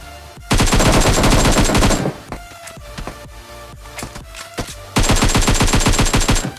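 Automatic gunfire in PUBG Mobile: loud, close bursts of rapid shots, a sparser stretch of single reports in the middle, then another long sustained burst. No talking.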